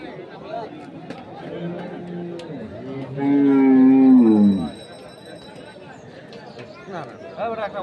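Cattle at a livestock market in Dinajpur, including bulls for Qurbani, with one loud, drawn-out moo rising in the middle over background crowd chatter and people talking nearby.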